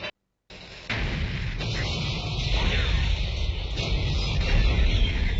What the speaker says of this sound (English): This explosion is awesome.